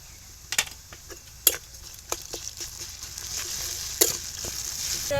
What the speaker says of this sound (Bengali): রসুনটা হালকা ভাজা ভাজা হয়ে গেছে